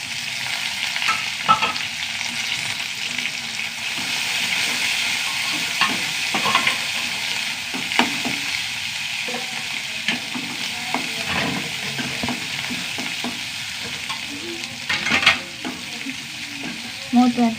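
Small onions, dried red chillies and curry leaves frying in hot oil, a continuous loud sizzle with intermittent stirring clicks and scrapes throughout, no talking.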